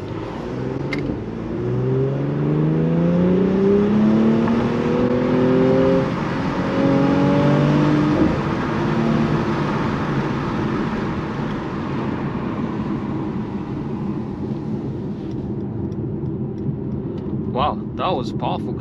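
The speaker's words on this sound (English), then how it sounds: "the AMG enhanced 3-liter V6 bi-turbo on this car is just phenomenal." A Mercedes-AMG C 43 Coupe with its 3-liter V6 bi-turbo engine accelerating hard from inside the car, a loud rising engine note climbing through several gear changes before settling into a steady cruising rumble.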